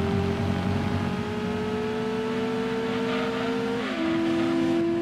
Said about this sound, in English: Go, little Rotary 2 engine. You can do this.